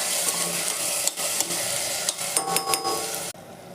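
Rice frying in oil in a pan, with a soft steady sizzle broken by several clinks and scrapes of a utensil stirring against the pan, close and without talk.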